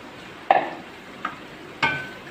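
A spoon stirs white chickpeas into tomato masala in a pan, making three sharp scraping knocks at irregular intervals over a soft background sizzle.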